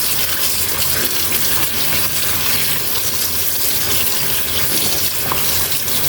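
Tap water runs steadily into a sink while fish, a pampano, is rinsed under the faucet, a continuous close gushing splash with no talk.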